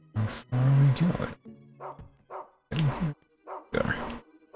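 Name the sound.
dog barking in the video game Rule of Rose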